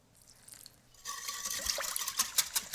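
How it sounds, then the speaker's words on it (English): Custard made with sugar and vanilla is whisked in a bowl, starting quiet and then turning into a wet, rhythmic slosh and clatter as the whisk speeds up. No one speaks. "Whisk that all up."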